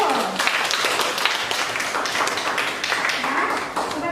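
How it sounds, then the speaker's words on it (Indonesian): Classmates clapping during a classroom group presentation, steady and fairly close for about four seconds with a few sharper individual claps and some voices underneath. "kasih tepuk tangan dulu"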